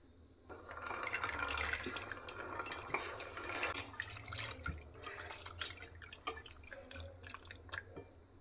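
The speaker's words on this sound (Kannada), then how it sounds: "ಇದನ್ನು ನೀರಿಗೆ ಹಾಕಿ ಒಂದೆರಡು ಸಲ ಚೆನ್ನಾಗಿ ತೊಳ್ಕೊಂಬಿಡ್ಬೇಕು" Chopped beans are swished and rinsed in a bowl of water, giving splashing and dripping with small clinks against the vessel. The sounds are close and irregular, swelling at first and then settling into scattered drips and sloshes, with no talking.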